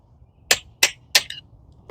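Three sharp metallic hammer blows ring out on a rear brake part of a 2011 Ford Focus, evenly spaced and close, each with a bright clanging ring that quickly fades, with no talking.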